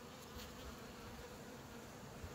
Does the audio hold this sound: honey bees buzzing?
yes